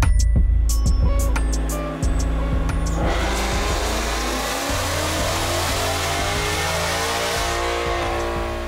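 A 2024 Ford Mustang GT with a VMP Gen 6 Stage 1 supercharger kit runs on a chassis dyno, its engine climbing loudly through the revs in one sustained pull, with high whine rising above the roar.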